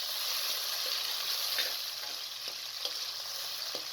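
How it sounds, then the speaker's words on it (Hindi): Onions and tomatoes fry in half a cup of cooking oil in a wok, a steady close hiss of sizzling with faint scraping of stirring and no talk. "उसके अंदर हाफ़ कप कुकिंग ऑयल को शामिल कर दें, साथ में प्याज को भी डाल दें।"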